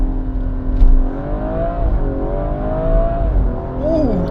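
A Ford Focus RS accelerating hard through rapid gear changes, the engine note rising steadily and dipping at each shift, loud and close from inside the car, with no talk over it.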